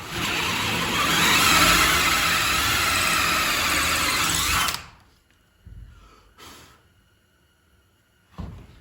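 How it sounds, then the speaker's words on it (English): A loud, steady power drill whines and grinds for several seconds boring through wood, then stops abruptly, leaving a few soft knocks and thuds. "I'm drilling through a lot of wood."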